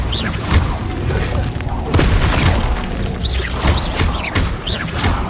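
Bombarda spell blasts in the Hogwarts Legacy video game: a dense barrage of booming explosions with crackling debris and whooshing effects, loud and continuous, with repeated impacts roughly every second.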